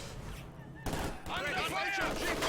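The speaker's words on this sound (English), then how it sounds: "now incendiary rounds for the MG42" In Company of Heroes 2, an MG42 machine gun fires in faint bursts mixed with other battle gunfire, under a commentator's voice.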